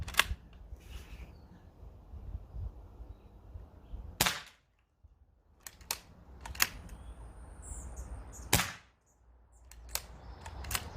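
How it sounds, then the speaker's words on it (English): A Crosman 118 air rifle is cocked and handled, producing several sharp metallic clicks and snaps spaced apart, close and crisp against a quiet background. "we'll cock the gun."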